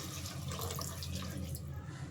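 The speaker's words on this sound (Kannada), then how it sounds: "ಇದಕ್ಕೀಗ 1 ಲೋಟ ನೀರು ಹಾಕ್ಕೊತಾ ಇದ್ದೀನಿ" A glass of water is poured into a pan of vangi bath with tomato, making a steady, quiet splashing flow for about two seconds before it tapers off.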